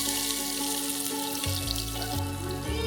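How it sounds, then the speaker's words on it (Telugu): Onions dropped into hot oil in a pan for a Palanadu-style mutton boti curry, giving a steady, close, bright sizzle and crackle that runs throughout with no talking. "సౌండ్ ఇలా రావాలి ఉల్లిపాయలు వేసినప్పుడు"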